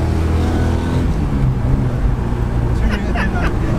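A 1978 Ford Escort RS2000 with a 2-litre Pinto engine drives on a country B-road, its engine a loud, steady low roar heard from inside the car, with a voice talking over it.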